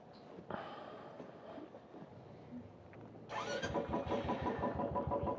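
A Royal Enfield motorcycle engine is cranked, then catches and settles into a steady, throbbing mid-pitched idle, heard fairly faint and close with no talk.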